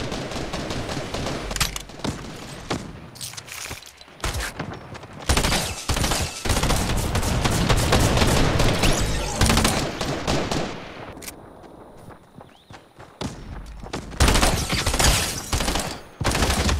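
Dense, loud gunfire from the video game Fortnite, rapid automatic bursts and single shots with brief lulls, continuing for about seventeen seconds with no talk over it.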